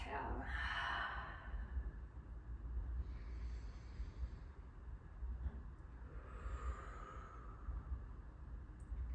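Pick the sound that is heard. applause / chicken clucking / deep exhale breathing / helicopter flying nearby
deep exhale breathing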